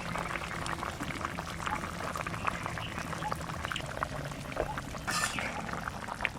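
A thin pomfret fish curry with slit green chillies and raw mustard oil simmers in a pot, giving a soft, continuous bubbling and gurgling at low volume with a brief louder splash near the end.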